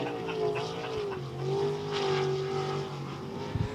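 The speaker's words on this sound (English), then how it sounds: "Justin Zimmerman from Athens, Texas will take it underway for his first lap of qualifying." A race car on its first qualifying lap at a dirt speedway, Devil's Bowl Speedway, its engine droning steadily with rising and falling pitch, loud and continuous throughout with no talk.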